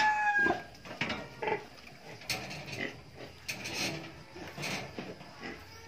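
Pigs, including a sow with ten piglets, grunt and squeal in short bursts across a noisy barn, with some fowl clucking faintly in the background.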